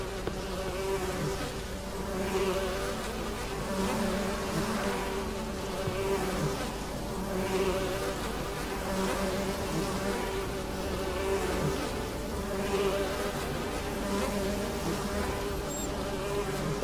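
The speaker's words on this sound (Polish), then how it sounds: "Kurde, głupie muchy!" Flies buzz continuously around a swamp tower in The Witcher 3, a steady droning hum that swells and fades in slow waves for the whole stretch, close and fairly loud, with no talking.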